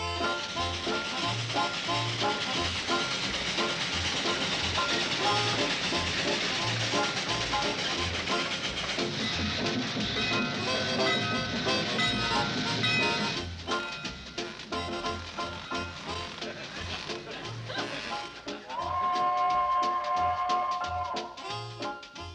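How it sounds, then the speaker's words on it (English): A train pulls into a small rural junction station with loud rumbling, clattering wheels and hissing steam, the noise easing toward the end and ending in a brief tonal whistle-like sound. "Girls, train's in."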